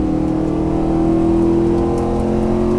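A race car engine holds a loud, steady high-revving drone on a test track, close and continuous with a slight rise in pitch.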